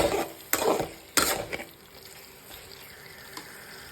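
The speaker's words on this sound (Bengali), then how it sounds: "আমি এঁচুরটা এখানে কষিয়ে নিচ্ছি" Jackfruit with bay leaf being sautéed in a pan for a vegetarian jackfruit curry: a few sharp spatula scrapes and stirs over a soft background sizzle, fading to quieter cooking noise.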